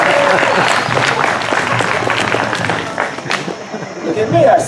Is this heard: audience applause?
yes